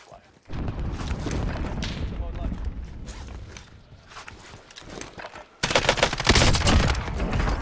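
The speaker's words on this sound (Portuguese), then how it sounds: "Ah, é que eu vejo tiros." Gunfire in a shooter video game, loud rapid bursts of shots and crackling fire that start abruptly, dip for a stretch, then return harder near the end.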